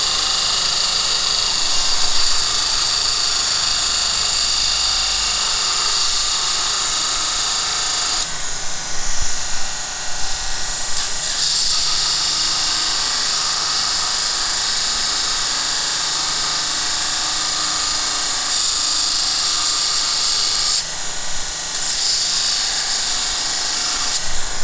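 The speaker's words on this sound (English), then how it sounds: "So you have to grind that down below center." A brazed carbide angle cutting bar for a Wohlhaupter UK4 boring head is ground on a wheel, giving a steady, loud, hissing grind that drops away briefly a couple of times, with no voices.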